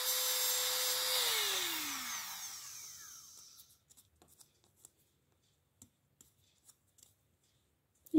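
A rotary burr polishes a metal workpiece with a high whining grind whose pitch drops as it spins down and fades out, followed by faint scattered clicks and a sharp knock at the end.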